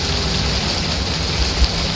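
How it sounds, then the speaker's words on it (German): Loud, dense rain pours without pause in The Caregiver video game, a thick unbroken hiss with a brief low thump near the end and no voices. "Oh, ist der Regen laut."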